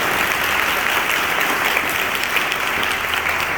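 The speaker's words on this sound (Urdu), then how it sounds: "یسوع مسیح کے لیے زوردار تالیاں، زوردار تالیاں" A church congregation claps loudly and continuously for Jesus Christ, a dense, even wash of applause that fills the whole moment.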